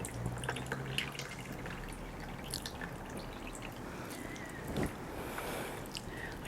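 Water drains and drips from a houseplant pot, a faint close trickle with scattered drips against a quiet room.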